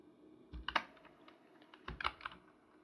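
Code typed on a computer keyboard: two short bursts of crisp key clicks, close and quiet, separated by a brief pause.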